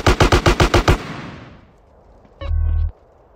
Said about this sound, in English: they shoot at you with automatic shotguns and heavier weapons